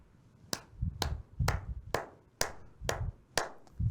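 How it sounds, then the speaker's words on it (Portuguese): A few sharp, evenly spaced claps ring out roughly every half second, about eight in all, fairly near and isolated, like a small classroom group clapping in slow unison rather than full applause. "Mais um aplauso para a Conceição do Canindé"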